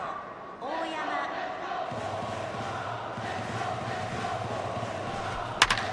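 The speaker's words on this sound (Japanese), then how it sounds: "スタンドのファンからも歓声が届きます" A stadium crowd roars in Pro Yakyu Spirits 2019 during a Hanshin baseball game, a sustained swell of cheering that rises and holds, with no voices speaking in the clip.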